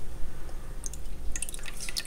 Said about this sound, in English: So, let's put lemon in.